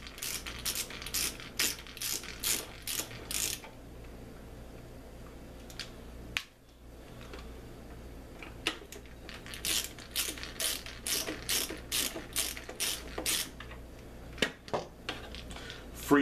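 Screws being backed out of the rear of a printer, a dense ratcheting series of sharp clicks in bursts, with a pause midway, close and fairly loud.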